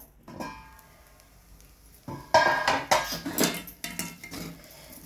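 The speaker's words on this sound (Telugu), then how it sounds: "రెండు నిమిషాలు మూత పెట్టుకొని సిమ్లో" A metal lid goes onto a pan of cooking poha (flattened rice), with a series of sharp metallic clanks and rattles, close and fairly loud, spread over a few seconds.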